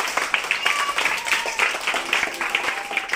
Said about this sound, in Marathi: शिवराजसाठी जोरदार टाळ्या.